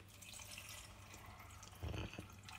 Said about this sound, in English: We're going to put some coconut water.